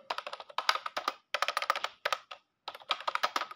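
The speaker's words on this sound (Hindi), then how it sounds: "इसलिए मैं बैक स्पेस मिटा रहा हूँ" Fast typing and backspacing on a computer keyboard, dense bursts of close key clicks broken by short pauses, with no voices.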